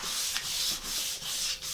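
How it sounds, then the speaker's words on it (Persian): Wooden setar neck being sanded by hand with 1000-grit sandpaper in a luthier's workshop, a soft, close rubbing rasp repeated in four even back-and-forth strokes, with no voices. "سنباده هزار میکشیم روش"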